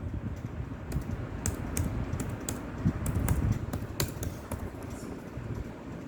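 Steady typing on a computer keyboard while entering a form question, a quick run of close, light key clicks with a few sharper taps, alone with no talk.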